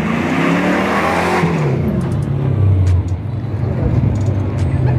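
Drag-racing cars, among them a Chevrolet Caribe, launch at Autódromo Moisés Solana. Loud, close engine roar climbs in pitch as they accelerate, then falls and thins as they pull away down the strip.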